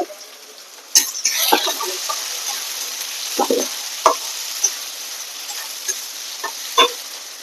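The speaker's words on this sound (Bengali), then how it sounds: "পেঁয়াজটা দিয়ে একটু সুন্দর করে ভেজে নেবো।" Chopped onions fry in oil in a pan for a country chicken curry, a soft, steady sizzle broken by scattered spatula scrapes and light taps against the pan.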